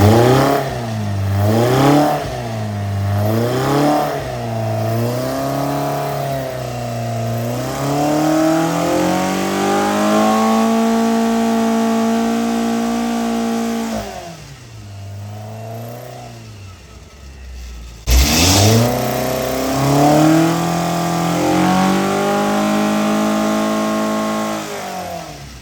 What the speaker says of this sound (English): check the fueling on Stuart's engine, and we're gonna get a tune out of it